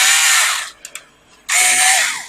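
An electric drill, used as an instant chuck on a pin vice for model building, whirs steadily for about half a second, stops with a couple of faint clicks, then whirs again at full speed, close and loud.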